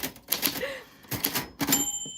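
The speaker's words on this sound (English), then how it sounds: "that is what your name sounds like on a vintage typewriter" Keys strike a vintage typewriter in quick clattering bursts separated by short pauses, with a bell-like ding near the end, close and fairly loud with no talking.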